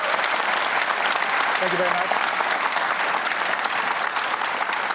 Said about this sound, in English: Clap quickly because we're running out of time.